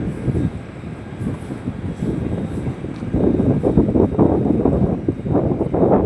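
Gusty wind buffets the microphone with low rumbling surges that grow stronger halfway through.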